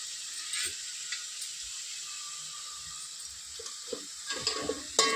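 Ingredients for chicken bagara rice fry in a pan with a continuous close sizzle, broken by occasional stirring scrapes and soft clatters that grow toward the end.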